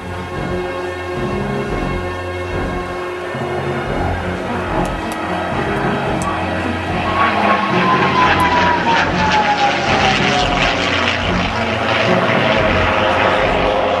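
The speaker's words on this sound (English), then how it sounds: "Now the Spitfire here, of course, MH434, well known at air shows throughout England and Europe" A Supermarine Spitfire MH434 flies past at an air show, its propeller engine droning loudly and steadily, swelling and shifting in pitch as it passes overhead.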